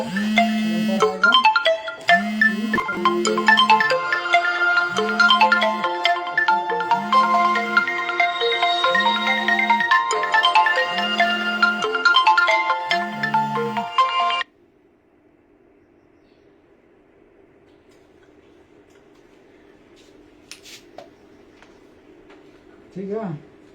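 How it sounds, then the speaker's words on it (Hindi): A mobile phone ringtone for an incoming call plays a loud, repeating electronic melody over a steady pulsing beat. It cuts off abruptly partway through, leaving near silence with a few faint clicks. "फोन आ गया था ना"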